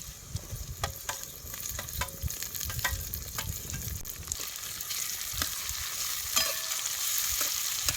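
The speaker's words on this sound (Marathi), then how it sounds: "आता कांदा आणि टमाटो चांगले तेलात भाजले." Chopped onion and tomato fry in oil for a drumstick dish, giving a soft continuous sizzle with regular scraping and tapping stirs against the pan, close and alone.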